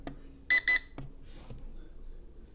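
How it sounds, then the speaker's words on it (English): A Holy Stone HS420 drone transmitter beeps twice in quick succession as it powers on, short and clear, followed by faint handling clicks in a quiet room. "Let's turn the transmitter on."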